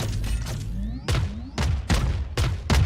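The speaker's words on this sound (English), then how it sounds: "All missiles away." Missiles launch in a Valorant match: a rapid series of about five loud, heavy blasts follow one another closely, each with a booming low thump and a short crackling tail.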